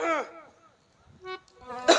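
Throat clearing during a comedic Ramlila stage performance comes as a few short, rasping bursts with quiet gaps between them, close and fairly loud.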